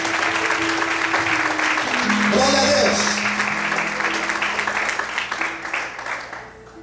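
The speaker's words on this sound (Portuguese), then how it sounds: "Dê forte as palmas ao Senhor esta noite." A church congregation claps under a preacher's loud voice, the applause steady and crowded throughout, with musical tones ringing in the background.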